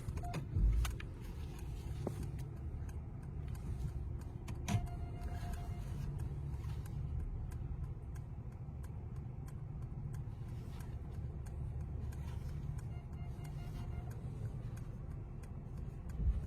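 Cabin of a Mercedes being driven, with a steady low engine and road hum throughout and a few faint clicks and rattles inside the car, no talking.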